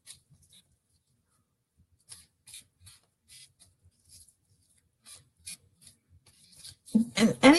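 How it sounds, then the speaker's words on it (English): A tarot deck is shuffled by hand in a series of brief, soft papery rubs and snaps spread across the stretch, quiet and close, with a louder rustle of handling at the end. "I'm going to continue to shuffle those two cards"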